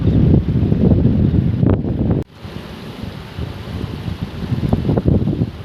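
Strong wind at the reverse waterfall near Patan buffets the microphone with a heavy roar, briefly dropping then gusting again, with water churning faintly underneath.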